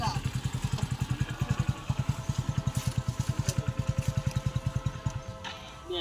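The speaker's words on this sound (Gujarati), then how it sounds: "બાઈક લઈને આવો આવો જો આવી ગયો બાઈક" A motorcycle pulls up close with a steady, low, rapid putter from its engine and a faint clatter that eases slightly toward the end.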